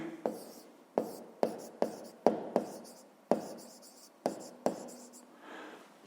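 A pen writing by hand on paper, heard up close as a series of about ten sharp tapping strokes, each followed by a short scratching trail, in a steady, quiet rhythm.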